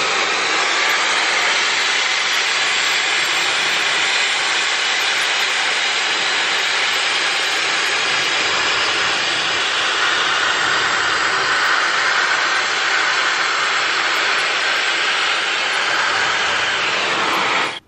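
Dyson Supersonic hair dryer with the Coanda airflow attachment, run on its lowest heat and airflow setting, giving a loud, close, steady high-pitched rushing whoosh that holds unbroken until cut off at the end.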